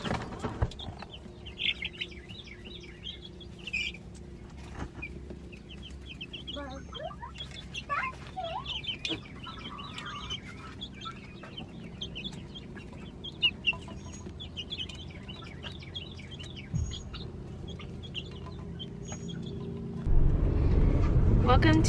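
Chickens let out into a yard cluck and chirp in scattered short calls at a moderate distance, running under quiet talk through most of the stretch, with a louder low rumble taking over near the end.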